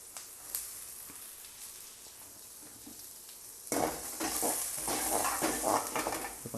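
Chopped large onion, added with green chilli, frying and being stirred in hot oil in a pan: quiet at first, then a louder, steady sizzle from midway with scraping stirs, no talk.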